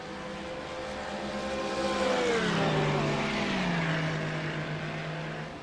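Mercedes and Porsche GT3 race cars roar down the long straightaway at Road America, a loud continuous engine howl whose pitch drops as the cars sweep past up close.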